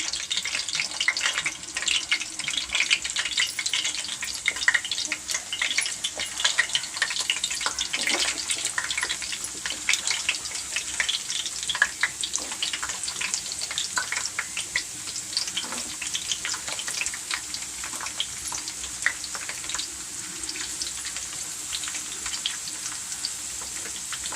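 Potatoes and mixed vegetables frying in oil for veg biryani, a loud, dense, continuous sizzle and crackle heard up close for the whole stretch, without any voices.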